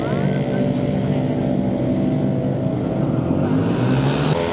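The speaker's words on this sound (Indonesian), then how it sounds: "motor-motor berkapasitas CC besar juga turut hadir dalam cornering ini" Large-displacement motorcycles race through a corner on a track, their loud engines roaring together in an unbroken blended drone that shifts pitch slightly as they pass.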